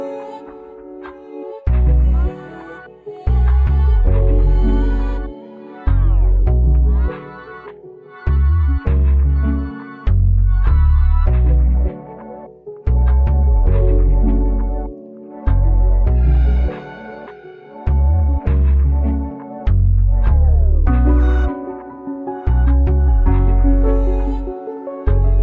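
A chopped hip-hop sample beat built from piano with added vocal, bass and reverb loops continuously, with punchy low bass hits and short gaps between phrases, full and loud throughout.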